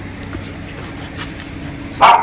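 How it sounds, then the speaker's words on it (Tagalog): A dog gives a single short, close bark indoors near the end, after a stretch of steady low room noise. "Merong dog sa loob. May aso."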